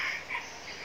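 Rooster crowing inside a coop on a Vietnamese chicken farm, a short loud drawn-out call close by, with other birds faintly behind.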